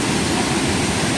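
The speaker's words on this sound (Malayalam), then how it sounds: "നല്ല കിടില വെള്ളച്ചാട്ടാ, അടിപൊളിയാണ്." Marottichal Waterfalls in Thrissur, Kerala, pours with a dense, unbroken roar, loud and close, a steady rushing wash of falling water with no voices.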